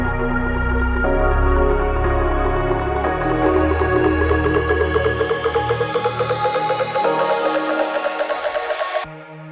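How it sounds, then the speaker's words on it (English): Rising tonal riser effect sweeping upward in pitch over a deep house build-up, layered on a pulsing bass and chord bed for about nine seconds before cutting off abruptly at the end. "I want to have a tonal riser dropping in here"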